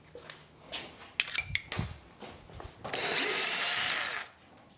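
A power drill drives a drywall screw in a cart-building workshop: a few sharp knocks and taps of handling, then a single high-pitched whirring drill run lasting over a second before stopping.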